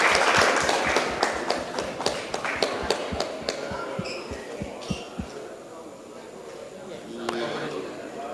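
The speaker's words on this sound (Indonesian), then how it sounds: "Beri tepuk tangan yang meriah buat Komisi 1." Applause from an audience at a formal organisation meeting, close and fairly loud, clapping that thins out and fades, with a few scattered claps near the end.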